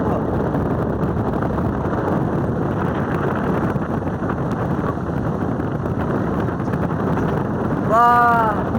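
Strong wind buffets the microphone atop the Kovalam lighthouse, a steady loud roar running the whole way, with a brief voice near the end.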